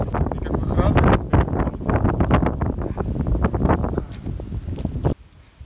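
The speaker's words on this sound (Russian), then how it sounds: "Какой ветер сейчас? Кошмар." Strong gusty wind roars and buffets the microphone between two rocky cliffs in a gorge near a cave town, loud and continuous before dropping off abruptly at the end, with people talking.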